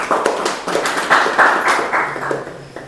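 Several people clap together in a devotional gathering on Tripurari Purnima, where a sermon, aarti and bhajans are held. The claps come as a quick rhythmic run of bright, close bursts over a few seconds.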